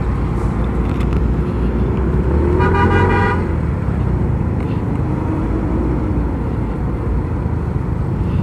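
A car horn toots repeatedly in a short burst amid steady, loud traffic and engine rumble at a stoplight, heard from a Yamaha Mio i 125 scooter.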